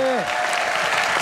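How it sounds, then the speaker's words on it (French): Brief burst of studio audience clapping at a French radio show, dense and fairly loud, following a quick sliding tone at the start. "On peut les applaudir bien fort."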